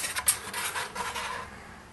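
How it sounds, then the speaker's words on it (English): A small plastic spoon scraping and scooping wet material out of a plastic bucket during gold recovery from electronics with hydrochloric acid, a few faint close scrapes and rubs, quiet and unaccompanied by speech. "you're actually going to have to spoon the rest out"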